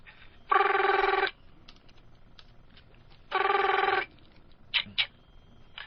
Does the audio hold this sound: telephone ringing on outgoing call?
yes